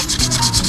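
Close, rhythmic back-and-forth sanding strokes with fine 400-grit sandpaper on a Yamaha Mio i 125 scooter part, about six quick rasping passes in under a second.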